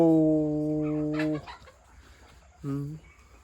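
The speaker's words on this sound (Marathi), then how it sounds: "अशा प्रकारे कोंबड्या हा हो सगळ्या बाहेर येत" A close, loud chicken call with a long held tone, then a brief clucking burst, and a second shorter call near the end, with farmyard background noise in the evening.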